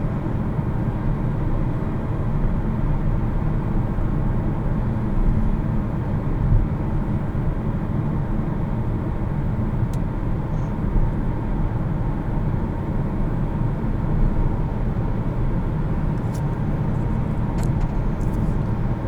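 Heard from inside a 2019 Hyundai Kona on the move, the engine and road noise form a steady, fairly loud drone that holds without letup, with no speech.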